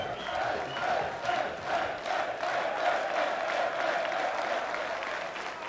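Crowd at the 2007 Viking Power Challenge strongman competition cheering and applauding, a continuous roar of clapping and shouting with rhythmic surges, fairly distant and steady.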